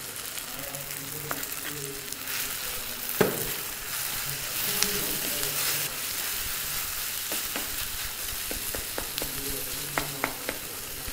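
Tomatoes frying with pounded ginger-garlic paste for a drumstick and kabuli chana curry give a moderate steady sizzle, broken by occasional spoon clinks and scrapes against the pan, with no talking.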